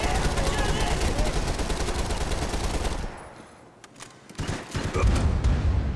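Gunfire in the video game Max Payne 3 rattles in dense automatic bursts, loud and continuous, then drops out briefly before sharp isolated shots and renewed firing return, with excited players shouting over it.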